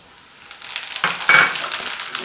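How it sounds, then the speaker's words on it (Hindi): Fennel seeds are dropped into hot oil over a low flame, and a rising crackling sizzle with light sputtering holds steady close by, with no talking. "सबसे पहले हम लो फ्लेम पे गैस को करके इस तेल में सबसे पहले मीठी सौंफ डालेंगे"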